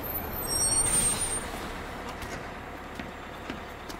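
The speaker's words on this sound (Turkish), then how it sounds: "Ve otobüs geldi." A bus arrives in GTA 5 with a loud hiss of air brakes at the start, followed by a low, steady engine rumble.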